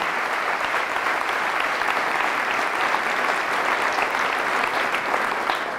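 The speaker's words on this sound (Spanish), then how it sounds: "Fuertes aplausos" Loud, sustained applause from a church congregation honoring Jesus, a dense wash of clapping that holds steady without pause.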